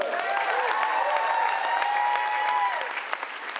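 A crowd applauds service dogs and emotional support animals at an anime convention costume contest, a sustained roar of clapping at steady volume while a sustained tone hums faintly beneath.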